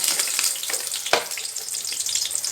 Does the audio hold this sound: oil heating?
yes